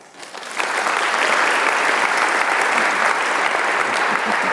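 An audience welcomes the singer with sustained applause that swells quickly and stays loud and steady, a dense wash of clapping with no voices over it.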